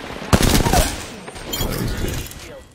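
Video game gunfire, with a loud, close burst of rapid shots followed by a rattling continuation of fainter fire and echoing impacts.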